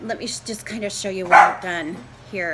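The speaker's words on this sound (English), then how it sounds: "Sorry for the dog barking." A small indoor dog barks and yips repeatedly in short bursts, close and fairly loud, while someone talks over it during a styrofoam craft project.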